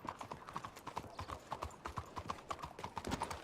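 Horse hooves clip-clop in a steady trotting rhythm in a video game, fairly faint and unbroken, with no voices over them.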